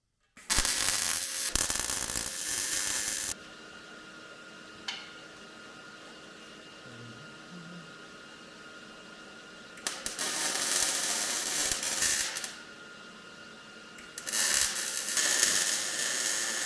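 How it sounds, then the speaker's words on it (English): Bursts of MIG welding on an engine mount in a 1988 Toyota Hiace, three crackling runs of a few seconds each separated by quieter pauses, loud and close with no talking. "And now I'm going to weld it up."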